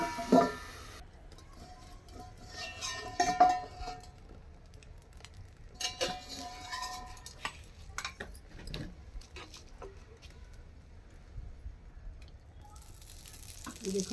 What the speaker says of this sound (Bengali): এইভাবে ঘি দিয়ে দিলাম ওপরে আর ফুলে উঠে খুব সুন্দর একটু গায়ে ঘি দিয়ে ভেজে নিতে হয়